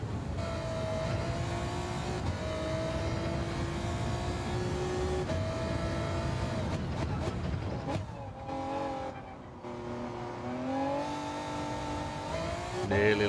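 A Gran Turismo 7 race car runs at the Sardegna circuit in a WTC 800 race, its engine droning loudly at full throttle, then dropping and revving back up through gear changes with brief tire noise.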